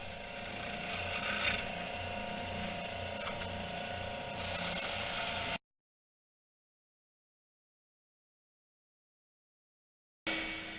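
A RIDGID EB44241 oscillating belt spindle sander runs steadily and close with a dense mechanical whir, cuts out into silence for several seconds, then starts up again near the end.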